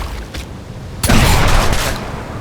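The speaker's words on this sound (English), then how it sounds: "Blind firing is basically shooting without holding the LT button." A Gears of War shotgun fired blind without aiming: one heavy, close blast with a long rumbling tail, preceded by quieter game background sounds.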